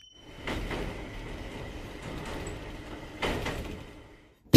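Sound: train arriving at station platform and doors closing

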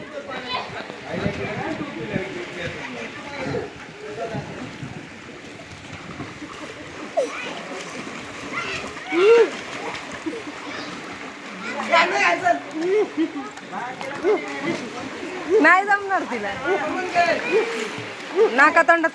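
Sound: water splashing as a baby swims

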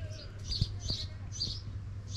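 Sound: sparrows chirping

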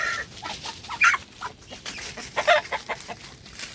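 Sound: White Kelso chicken hen clucking after laying eggs

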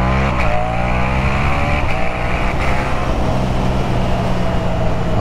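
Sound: Yamaha MT-07 two-cylinder motorcycle accelerating

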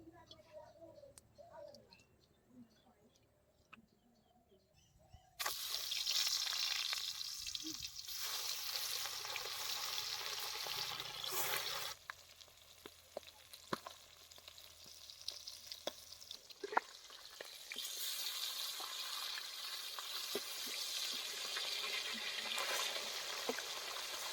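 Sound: pangas fish frying in hot oil in a wok

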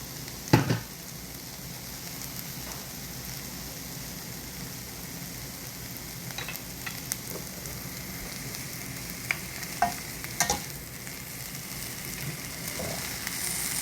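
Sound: stir-frying potatoes for dried pollack potato soup

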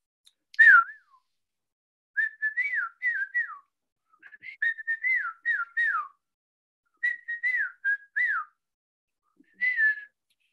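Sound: whistling a music track

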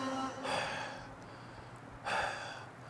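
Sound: breathing out onto ski goggles

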